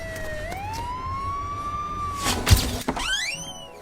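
A rising siren wails close by over low background noise, interrupted by a couple of thumps before the tone climbs again.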